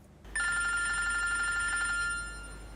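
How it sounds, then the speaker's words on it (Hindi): A telephone rings in a home with a bright electronic trill repeating rapidly for about a second and a half, clear and moderately loud, then stops, leaving faint room noise. "तुम्हारा फोन बज रहा है"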